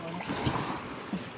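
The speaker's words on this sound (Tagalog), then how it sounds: "Ang lakas ng alon." Strong sea waves wash and surge around a small boat in open water, with a steady broadband rush and wind noise broken by a few heavier swells.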